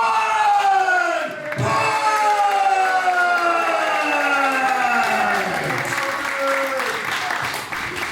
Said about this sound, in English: Great round of applause there for Warren Banks.